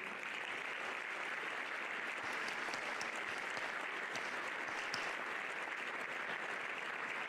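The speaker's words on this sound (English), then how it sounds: "I would like to give you one more round of applause for all that you've done and all that you will do" At an academic banquet, the audience claps steadily for the teachers, a continuous even wash of many hands with a few sharper claps standing out near the room.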